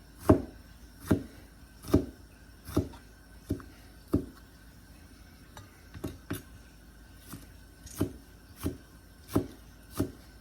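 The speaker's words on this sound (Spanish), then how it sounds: "empezaremos a picar todo un poco fino" Vegetables being chopped finely on a cutting board for pico de gallo. About a dozen crisp knife strikes land at an uneven, unhurried rhythm, close up, with quiet pauses between them and no talking.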